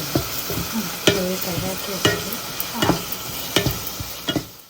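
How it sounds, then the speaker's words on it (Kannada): Mustard seeds, cumin, onion and green chilli fry in oil for a tempering, a soft background sizzle broken by several sharp spoon scrapes and clinks against the pan, fairly quiet and with no speech. "ಎಣ್ಣೆ ಹಾಕಿ ಅದಕ್ಕೆ ಸಾಸಿವೆ, ಜೀರಿಗೆ, ಈರುಳ್ಳಿ ಒಗ್ಗರಣೆನ ಹಾಕಿ ಆಮೇಲೆ ಅದಕ್ಕೆ ಹಸಿ ಖಾರ, ಎಷ್ಟು ಖಾರ ಬೇಕಾಗತ್ತಲ್ಲ ಅಷ್ಟು ಹಾಕಿ ಚೆನ್ನಾಗಿ ಎಣ್ಣೆಯಲ್ಲಿ ಫ್ರೈ ಮಾಡ್ತಾ ಇದ್ದೀವಿ"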